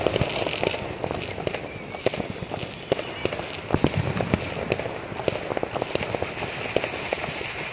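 Chinese New Year fireworks and firecrackers in a park at night crackle and pop in dense rapid bursts, a continuous fairly distant barrage of snaps with no clear pauses.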